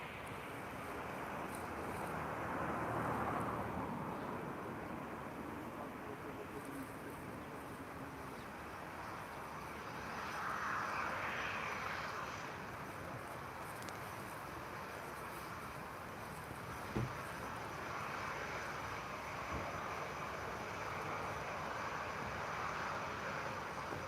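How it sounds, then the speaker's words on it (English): A Boeing 737 airliner approaches at Lisbon Airport, heard as a faint, distant jet rumble that swells and fades amid wind noise. "And now we have a Boeing. I will approach a Boeing 737."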